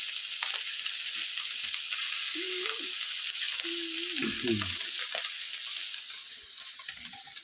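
Small puti fish fry lightly in a pan with a steady hiss of oil, joined by brief low whistling tones and soft clinks, all close and without speech.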